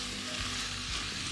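Vegetables with thyme sweat and sizzle in a Dutch oven for chicken soup, a steady close frying hiss running without break, with no one talking.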